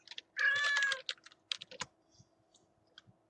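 A cat meows loudly once near the microphone, followed by scattered, crisp computer keyboard typing taps, all fairly faint in a quiet room with no talking.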